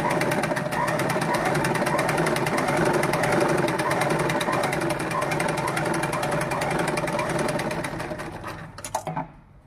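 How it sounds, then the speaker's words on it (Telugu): A sewing machine stitches a uniform shirt in a steady, fast, loud mechanical rattle lasting about nine seconds, then slows and stops abruptly near the end, heard close with no talking. "ఇక్కడ స్టిచ్ రాలేదు, ఇంకోసారి స్టిచ్ చేస్తున్నా."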